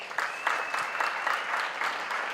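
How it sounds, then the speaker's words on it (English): Graduation-ceremony audience at Walter Sisulu University claps for the professors, a fairly quiet, moderately dense patter of hands in a large hall, with a faint steady tone running beneath. "On that note, can you applaud them?"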